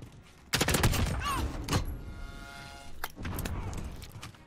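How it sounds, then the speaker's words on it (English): Gunfire and RPG explosions in the Cranked mode of the shooter Modern Warfare, with a dense burst of rapid shots, another volley after a short pause, and a voice talking over the battle. "I see RPGs and bullets flying everywhere"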